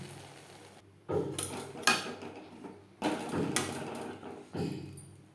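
Moong dal paste being stirred in a pan over a low flame, with a few close scraping and clinking bursts of a utensil against the pan separated by brief pauses.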